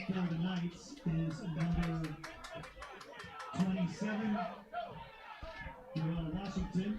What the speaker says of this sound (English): The Knights student section performs their infamous chant, "Hey Knights," as the student section crowd is getting very loud towards the end of this half.